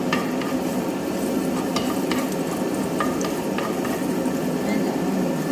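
Garlic fries in oil in a pan with a loud, continuous sizzle close by, broken by occasional light clicks of stirring.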